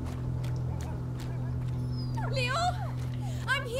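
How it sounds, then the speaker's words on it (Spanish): A dog whimpers in short high, wavering whines in A Plague Tale: Innocence, heard in two bursts over a steady low hum and faint background sounds. "El perro, está. Algo le pasa."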